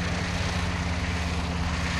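A Hawker Sea Hurricane with a Rolls-Royce Merlin 12-cylinder engine flying at an Old Warden air display, its propeller drone steady and continuous throughout, a loud low rumble with no talk.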